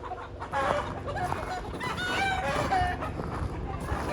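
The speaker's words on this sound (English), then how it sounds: "Cat's out here chasing chickens." Several chickens cluck and squawk loudly and close by, and one rooster crows as a cat chases them outdoors. The agitated calls continue throughout.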